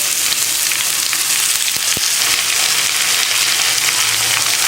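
Bottle gourd and tomato sauté with onions in a pan, giving a loud, even frying hiss throughout with a couple of brief utensil taps and no talking.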